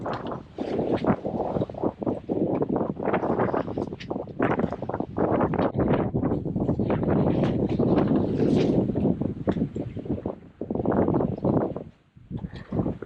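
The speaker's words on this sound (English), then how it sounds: "the wind's picked up as we've whipped around the back of this island" Gusty wind rushes over a 28ft sailboat under sail near an island, a loud broadband whoosh that swells and dips continuously, briefly easing near the end.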